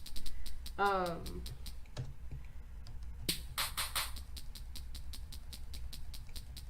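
Crisp, short ticking hi-hat hits from a closed hi-hat sample pitched up three repeat in a steady rhythm, with a brief glitchy stuttered burst and a chirpy sweep partway through, fairly quiet.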